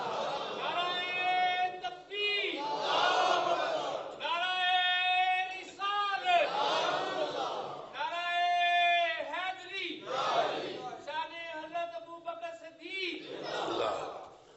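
A crowd at an Islamic sermon on Hazrat Abu Bakr chants religious slogans in loud, rhythmic call-and-response bursts, roughly seven rounds of massed voices separated by short gaps.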